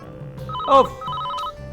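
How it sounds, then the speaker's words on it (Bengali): A telephone ringing indoors, a short electronic ring tone close by, with a brief louder warble in the middle. "আবার কে ফোন করে হ্যাঁ?"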